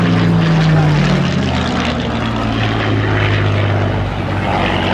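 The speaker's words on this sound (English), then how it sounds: "it is a helicopter display. The BO-105 doing things that only a 105 can really do." Rotor and engine noise from a BO-105 helicopter flying an aerobatic display at the Cosford air show, loud and continuous with a steady low drone throughout.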